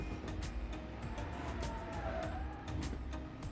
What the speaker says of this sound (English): let's give this Moonhawk a test in the track